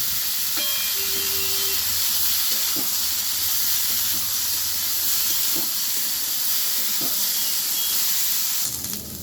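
Cauliflower stems frying in a pan for a Bengali chorchori make a steady, even sizzle and hiss with a few faint clicks, and no one speaks.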